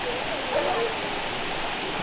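Steady roar of a waterfall on a hiking trail, a dense continuous rush of falling water heard up close with no other sounds.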